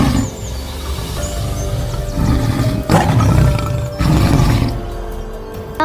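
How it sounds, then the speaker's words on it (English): A tiger gives a continuous deep, rumbling roar, loud and close, swelling in a few heavy surges over several seconds. "tiger"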